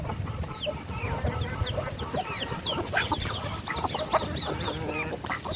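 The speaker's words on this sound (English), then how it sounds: "These are my little baby chicks." Poultry calling and clucking in a yard, busy overlapping chirps and honk-like calls from birds feeding on fresh greens, with a duck among them; steady and close, no talk.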